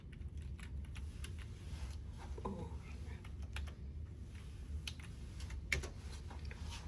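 Computer keyboard keys clicking in short, irregular bursts while someone types a search for a minor instrument tray, set against a steady low background hum.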